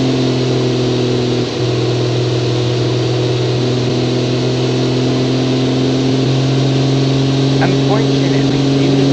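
A rear-weighted 1945-era car engine in Automation/BeamNG drones steadily and loudly, its layered hum holding a fairly even pitch throughout with no sharp changes.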